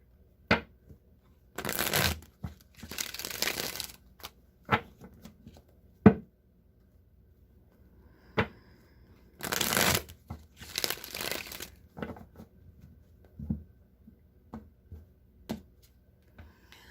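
A deck of Rider-Waite tarot cards being shuffled up close, several bursts of riffling and fluttering card noise separated by sharp taps and soft handling clicks.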